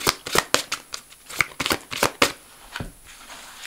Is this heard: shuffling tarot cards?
yes